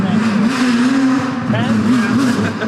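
Big-block V8 engine of a Formula Drift car revving hard at high RPM, a loud, raw, continuous roar with slight wavering pitch, close by and filling the whole moment.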